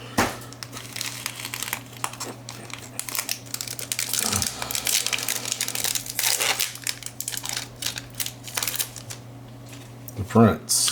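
Trading cards from a Disney Wonder Cards pack being shuffled and moved around, a steady papery crinkling and sliding close by, with a louder rustle near the end.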